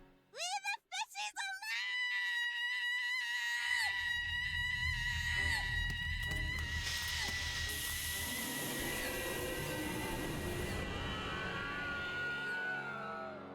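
Scream in the Gibbous Cthulhu adventure video game: high, wavering shrieks over a noisy, grinding game soundscape that fills the clip after a few sharp opening cries, with voices mixed in.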